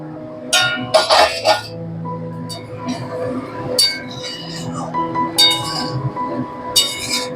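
A metal pot lid clinks and rattles sharply as it is lifted off a pot of prawn malai curry, several bright clanks in quick bursts with a faint hum in between.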